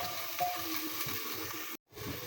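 Onions frying into crisp golden beresta for haleem, stirred in a pressure cooker, give a steady close sizzle and hiss with soft scraping, broken by one brief silent gap near the end.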